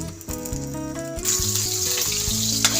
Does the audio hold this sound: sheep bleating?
no